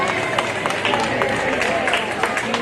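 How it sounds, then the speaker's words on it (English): Crowd applause at an outdoor children's contest at the Tuscarora Nation picnic, a steady patter of clapping hands with scattered voices murmuring underneath. "Let's give Elliot a round of applause."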